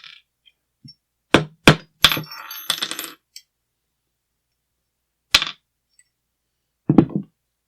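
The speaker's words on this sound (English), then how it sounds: "we're going to disassemble this and take a look at the bolt" Metal parts of a Barrett REC7 5.56mm rifle's bolt carrier clink and clack during disassembly, in a few sharp separate strikes and short rattling bursts with quiet gaps between them, close and clear.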